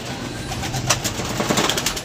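Pigeons coo softly inside a roomy loft, a steady low murmuring with a few brief wing flutters and scuffles, close by and with no talk.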